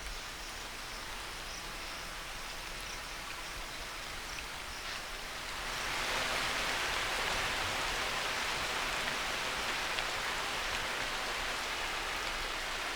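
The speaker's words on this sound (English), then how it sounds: "At daybreak, the rain resumes." Heavy monsoon rain pours down at daybreak over parched Indian land, a dense, steady hiss that swells noticeably louder partway through and then holds as a continuous downpour.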